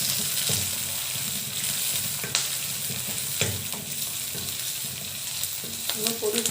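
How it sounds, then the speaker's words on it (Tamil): Onion added to hot oil and frying in a pan while cooking khushka chicken rice, a dense steady sizzle with occasional stirring knocks and scrapes. "கொஞ்சம் வெங்காயம் சேர்த்துக்கிறேன்."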